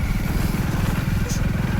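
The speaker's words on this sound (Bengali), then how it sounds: "একটাই শুধু বাইক যাচ্ছে" A single motorcycle runs along an empty road through forest after rain, its engine giving a steady, close, pulsing drone that holds constant throughout.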